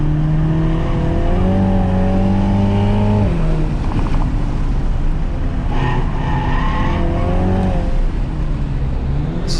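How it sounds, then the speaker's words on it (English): A 2021 Mini Cooper John Cooper Works GP driven hard on a race track, its engine rising and falling in pitch through repeated gear changes, with tires squealing briefly, loud and close without talk. "Such a quick and responsive car on track"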